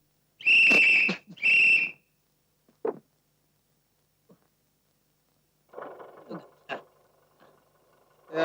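Two sustained, bright whistles from a man in a Tamil movie scene, each lasting about half a second. They are followed by scattered faint knocks and a low rumble of movement, with no speech.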